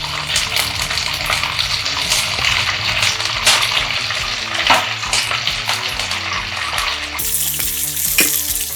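Diced capsicum sizzles in hot ghee with cinnamon and cardamom, a steady close crackle with occasional stirring scrapes, no voices.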